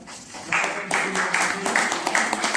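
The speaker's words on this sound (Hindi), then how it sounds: "तो जोरदार तालियां" An audience breaks into applause at a health talk, clapping starting after a brief pause and continuing in dense bursts with a faint voice underneath.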